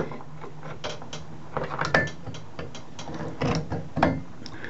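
Pliers work loose the nut on a clogged shower tub diverter, making close metallic clicks, scrapes and small ratcheting knocks in uneven bursts over a low background hum.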